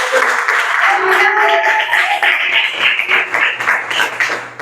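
Church congregation applauding in praise during an evening service, a dense, steady clatter of many hands that holds loud throughout while a voice speaks over it.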